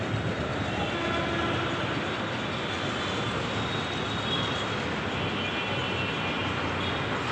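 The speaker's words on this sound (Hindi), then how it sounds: "राजा नाहर सिंह मेट्रो स्टेशन है ये।" Delhi metro train at Raja Nahar Singh metro station, a loud, continuous rumbling roar of the train running close by, steady throughout with no pauses.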